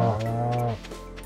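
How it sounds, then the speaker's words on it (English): A cow moos in the farming video game Stardew Valley, one drawn-out low call of under a second that cuts off abruptly, followed by quiet game ambience. "The cow."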